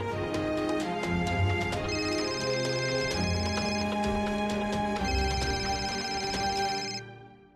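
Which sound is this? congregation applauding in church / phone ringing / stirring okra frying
phone ringing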